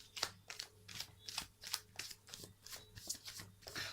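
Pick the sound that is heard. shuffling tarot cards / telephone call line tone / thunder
shuffling tarot cards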